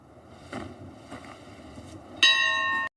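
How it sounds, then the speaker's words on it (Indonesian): A bell rings out with a bright, sustained tone that holds for about half a second and then cuts off. Before it come a few softer, fainter strikes over a quiet background. "Denkai membunyikan lonceng itu dan mengatakan harapannya"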